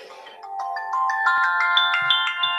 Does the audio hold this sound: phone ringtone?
yes